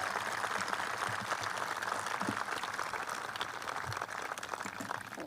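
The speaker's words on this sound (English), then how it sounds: "How about a round of applause for Jan Scruggs' leadership?" An outdoor crowd applauds steadily at a Memorial Day ceremony at the Vietnam Veterans Memorial wall, a broad, distant-sounding patter of many hands with no speech over it.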